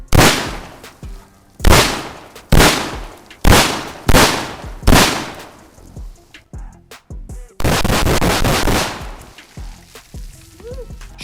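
A shotgun fires six loud, sharp blasts at a steady pace, each with a decaying boom. A few quieter mechanical clacks follow, then a sustained harsh burst near the end.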